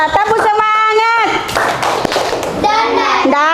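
Brief, energetic clapping from a classroom group in Semarang, a short loud burst in the middle, with a voice talking before and after it.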